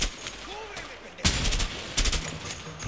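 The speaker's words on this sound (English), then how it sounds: "Nope, just a machine gun." Machine gun fire in the video game A Way Out comes as two loud, close bursts of rapid shots separated by a short pause, with faint game sounds and brief murmured speech before the first burst.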